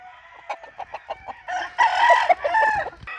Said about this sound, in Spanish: Este gallo es lobo con Betancourt.